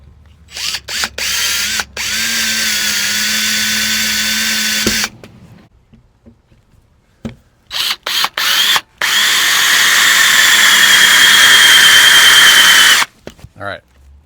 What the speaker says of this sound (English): I think I can start drilling these in and screwing it down